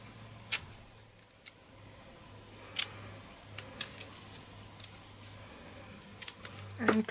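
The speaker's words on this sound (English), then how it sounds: "I'm just going to cut that into a V shape, then cut that into a fishtail on the other side" Scissors snip ribbon into a V shape, producing several sparse, crisp cutting clicks spread over a low background hum.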